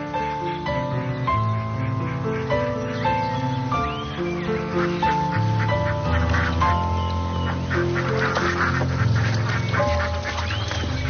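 Several ducks quacking and honking in overlapping calls, fairly close and continuous, with talk mixed in among the birds.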